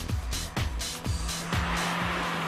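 A Toyota Avensis Combi 2.0 station wagon is pushed hard through a handling test, its tires squealing. Several rhythmic engine whooshes and sweeping surges follow one another closely over a continuous squeal, loud and near, with no talk.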